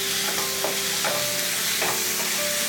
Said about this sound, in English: We'll mix it well